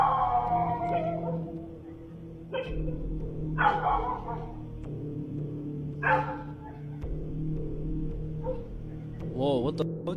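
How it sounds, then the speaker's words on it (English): Dogs barking and howling on security camera footage, scattered sharp barks and drawn-out whining howls at middle distance, with a low steady hum underneath. "You can see the dogs barking, and then as soon as they heard the cry, they started howling, crying as well"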